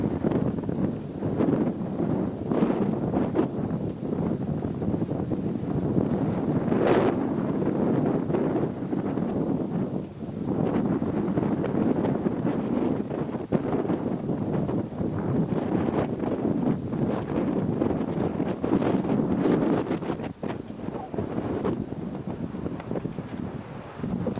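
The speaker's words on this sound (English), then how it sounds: "The wind is blowing." Wind blows outdoors in Grahamstown, South Africa, during a town festival in 1998, buffeting the microphone in a continuous loud rumble with gusty swells for the whole stretch.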